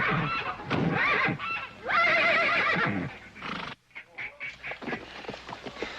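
A spooked horse gives loud, close, shrill neighs and whinnies in a couple of bursts, followed by snorts and scattered rustling movement.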